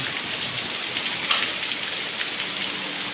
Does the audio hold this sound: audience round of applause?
no